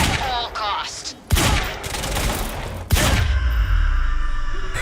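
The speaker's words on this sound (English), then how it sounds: "Open fire, but avoid damage to the core at all costs" Gunfire in the game Quantum Break: loud bursts of shots and heavy impacts, with sharp onsets near 1.3 and 2.9 seconds, layered with game effects and some background voice.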